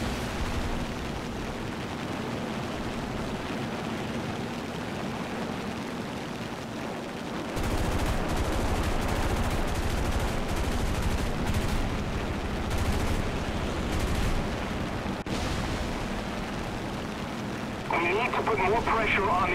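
Gunfire and aircraft combat from the video game War Thunder, with bursts of machine-gun fire and engine roar swelling midway and a harsher burst near the end, under steady talk.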